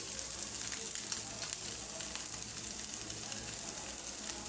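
Small chanda fish fry in a pan, giving a steady, dense sizzle and crackle throughout as they are stirred, close and continuous with no talk.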